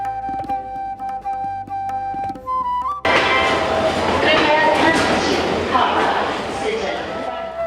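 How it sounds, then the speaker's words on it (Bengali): A train pulls into Jammu railway station; after a quieter stretch with tonal hums, a loud rumbling, clattering rush of rolling stock fills the last four and a half seconds, close and dense. "জম্মু স্টেশনে ট্রেন পৌঁছল তৃতীয় দিন বিকেল 4টে।"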